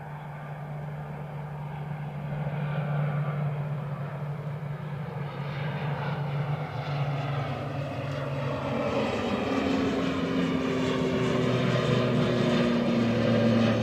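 An airplane at Edinburgh Airport, its engine roar building steadily and holding loud with a slowly shifting pitch, lasting throughout with no talk.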